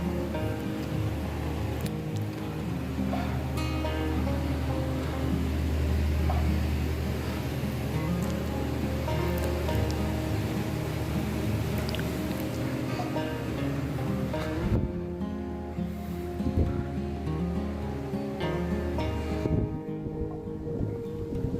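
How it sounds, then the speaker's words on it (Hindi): Water pouring into a kitchen water tank at a farmhouse guesthouse in Saudi Arabia, a steady loud rushing splash that runs throughout with no talk, easing slightly near the end. "ये पानी की टंकी है, इसमें मैं पानी डाल रहा हूँ अभी"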